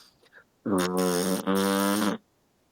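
A man sputters his lips in one long buzzing burst with a brief break midway, imitating an elk call, close and loud with no other sound around it.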